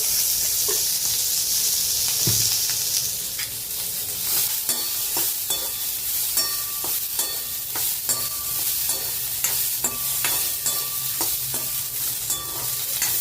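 Green peas roasting in a little oil in a pan for a Khandeshi vatana bhaji, with a steady close sizzle and frequent stirring scrapes and clicks throughout.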